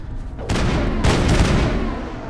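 Gas bags burst when shot in the Mass Effect video game, two sharp booming blasts about half a second apart, each trailing into a rumbling decay, loud and close.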